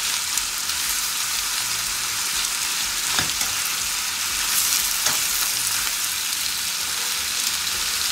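Ingredients for a coconut chicken curry sauté in a pan with a continuous, even frying sizzle, close and steady, marked by a few brief spatters and with no voices.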